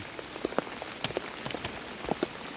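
Steady rain falls on a surface, a dense continuous hiss dotted with distinct nearby drips and taps, with no voices.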